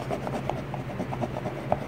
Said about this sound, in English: So just scrubbing it back and forth with that wet Q-tip.